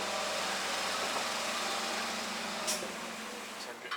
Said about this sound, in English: It's not that noisy as well. Pretty subtle sounding engine.